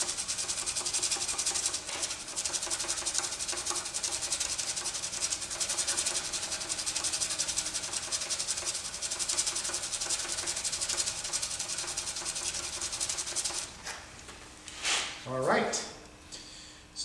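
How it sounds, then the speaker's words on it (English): Abrasive pad rubbed laterally along a turned ballpoint pen blank, giving a steady close-up hissing scrub that runs for most of the stretch, then breaks into a few short separate strokes near the end. "we're going to do the same thing we did with the sandpaper earlier, and that's to rub it laterally to get rid of any radial scratches"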